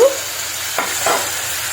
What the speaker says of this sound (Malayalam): ശേഷം ഇതിലേക്ക് കുറച്ച് ചൂടുവെള്ളം ഒഴിച്ചു കൊടുക്കണം